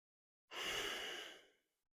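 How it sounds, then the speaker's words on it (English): A single long, soft exhale, close to the mic, rising quickly and fading out over about a second. "Probably hear my breathing there."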